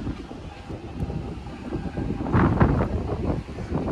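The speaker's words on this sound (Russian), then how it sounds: "Ветер дует, конечно, сильный." Strong wind buffets and roars steadily at an ancient citadel fortress in Alanya, Turkey, with louder gusts rising toward the middle and end.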